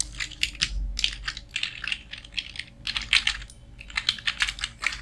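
A word is typed on a computer keyboard in quick bursts of crisp, close key clicks, with short pauses between the runs and no talking.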